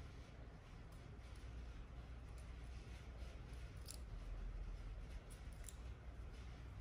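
Scissors snip through a long 30-inch synthetic 613 blonde lace front wig, producing soft, steady cutting sounds in a continuous close stream with a few brighter snips standing out, and no talking.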